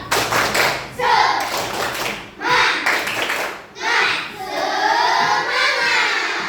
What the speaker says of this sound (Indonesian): kalau siap kita tepuk semangat dulu